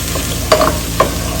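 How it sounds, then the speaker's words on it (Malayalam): Ginger and garlic sautéing in a pan for paneer masala, a close, loud sizzle with two quick spatula scrapes and no voices. "നമ്മളൊന്ന് വഴറ്റിയെടുക്കുന്നു."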